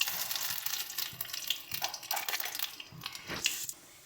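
Whole five-spice seeds and a bay leaf hit hot mustard oil for a steady close-up sizzle, with crackling pops and a few stirring scrapes throughout, no talk over it.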